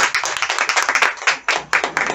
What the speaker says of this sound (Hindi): मैडम के लिए एक बार जोरदार ताली होना